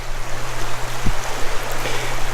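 Water flows over river rocks placed for erosion control, a steady broadband rushing and burbling close by with a constant low hum underneath.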